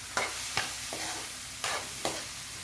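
Pork sizzles and crackles in a hot pan, rendering its own fat, with a few sharp scraping stirs punctuating the steady frying hiss.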